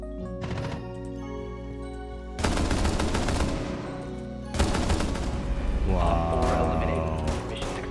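DMR rifle fire in Aruni rips out in loud rapid bursts, two long strings of shots separated by brief pauses over a steady game music bed.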